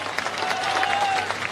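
A crowd at a statue unveiling and school building inauguration ceremony in Kothari, Rajasthan applauds steadily, a dense, moderately distant patter of many hands filling the short moment without a break.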